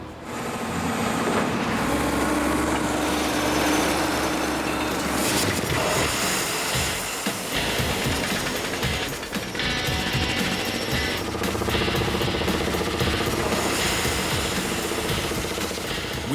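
Loud, continuous mechanical roar and clatter of a drill rig boring for water in an outback paddock, steady throughout with grinding, rattling impacts and no pauses.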